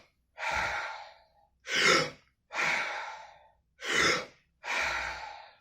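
Five deep, slow breaths drawn through the nose, each a long airy rush separated by short pauses, close and clear with no talking.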